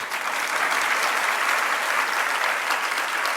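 A crowd claps together at a Hindi religious discourse, a dense, even round of applause that holds steady and fairly loud throughout, with no speaking over it.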